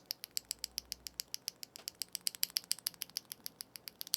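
TTC King of Magnetics magnetic switches, closed-bottom and stable, being pressed in a steady, fast run of crisp, light clicks, close up and alone with no talking.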